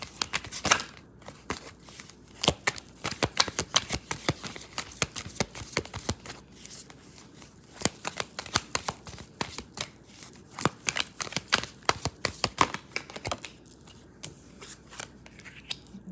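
Close, dry riffling and snapping of a tarot deck being shuffled, in quick irregular bursts of crisp card clicks with short pauses between them over about sixteen seconds.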